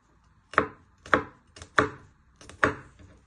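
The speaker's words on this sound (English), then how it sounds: "Then you want to finely slice it thinly." Knife slicing ingredients on a chopping board, five distinct crisp cuts at roughly even intervals with short gaps between, close and clear with no talking.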